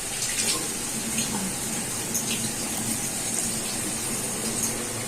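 Water pours steadily into a pot of basmati rice, a loud continuous gushing splash close up for several seconds.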